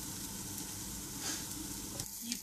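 Onions sizzle in a hot pan, a quiet, steady crackling hiss with a faint clink of a utensil near the end.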